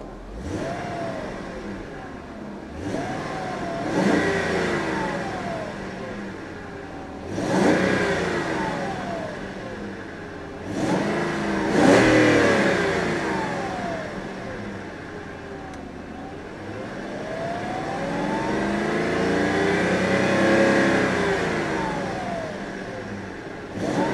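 The V8 engine of a 1995 BMW 840Ci revs up repeatedly in several surges, rising in pitch and falling back between bursts, loud and close with no talking.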